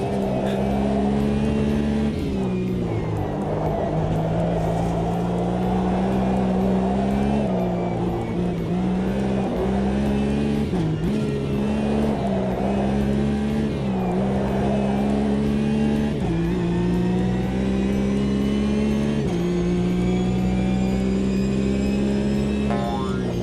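Porsche race car engine in a sim racing game, a loud close whine rising and dropping through repeated gear shifts and lifts, with other cars droning nearby.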